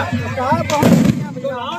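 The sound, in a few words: firecracker bursting at village festival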